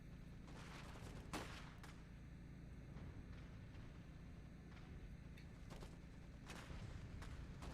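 Scattered rifle fire in the dieselpunk post-WWI mech strategy game Iron Harvest, sharp cracks popping every second or so over a steady low battlefield rumble, moderately distant and fairly faint.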